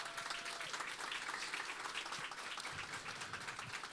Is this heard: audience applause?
yes